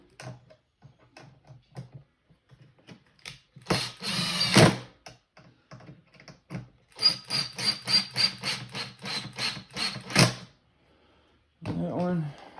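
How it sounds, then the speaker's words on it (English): Screws are driven into a mount on a 12-foot skeleton figure, with a couple of sustained mechanical ratcheting, buzzing runs between quieter handling noises, and a brief voice near the end. "And screw these in."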